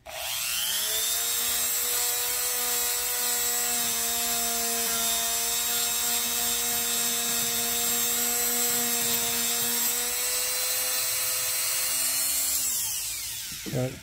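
A handheld rotary tool fitted with a Scotch-Brite pad grinds against a rough wooden piece, a loud steady high whine that holds for about thirteen seconds before spinning down, heard close and alone.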